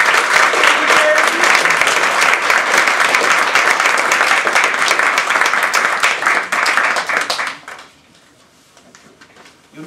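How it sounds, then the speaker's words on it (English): Steady, loud audience applause at a Toastmasters speech contest, dense clapping from a full room that stops abruptly near the end, leaving quiet. "Give yourselves a round of applause."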